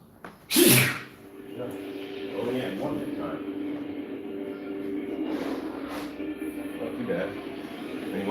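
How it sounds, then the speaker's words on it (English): A single sharp, loud sneeze from someone with morning allergies bursts out near the start, followed by steady background hum and a person speaking afterward. "one sneeze today, so that's good."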